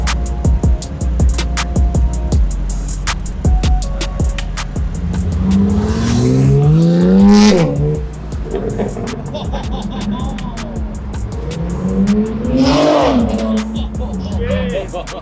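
A BMW engine revs hard in two long, rising pulls that swell loudly and then fall away, with sharper pops and mechanical clatter between them and no talk.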